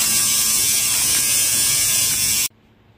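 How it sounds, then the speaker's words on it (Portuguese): A tattoo machine buzzes steadily and loudly while tattooing dark skin, a dense continuous electric whine that cuts off abruptly near the end, leaving quiet room noise. "Ô Romulo, deixa eu dar uma olhadinha geral como é que tá saindo a tatuagem"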